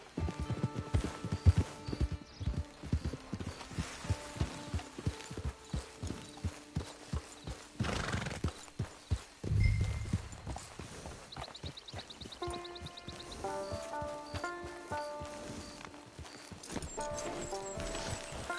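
Horse hooves clip-clop in a steady, fairly close rhythm in the open-world western game Red Dead Redemption 2, with a brief whinny and background game music and ambience, and no talk.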